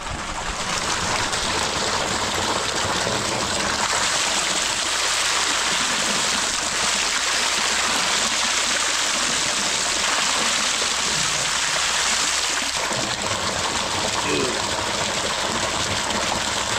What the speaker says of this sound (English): And also other fish pond, the muddy one over there, they are receiving water